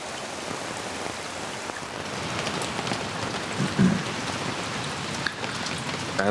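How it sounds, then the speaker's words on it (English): Heavy rain pours steadily in a rainforest, a dense continuous hiss of drops on foliage and surfaces with no voices. "It hasn't stopped raining now."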